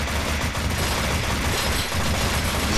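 Enemy gunfire in the NecroVisioN video game sounds as a dense, continuous fusillade of rapid shots, loud and steady throughout, with no voices.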